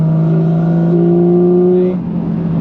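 Porsche 718 Cayman GT4 RS engine revving from inside the cabin, a loud, smooth rising tone that holds, then drops sharply as the driver shifts or lifts off.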